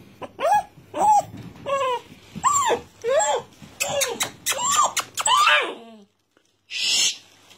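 A red Doberman puppy, about eight weeks old, gives a run of close, high whimpers and yips in quick succession, followed by a short pause and one last yelp.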